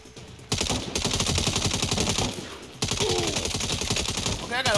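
Rapid automatic gunfire in the Saints Row video game, loud continuous bursts of shots with a short break midway, with brief voices or effects near the end.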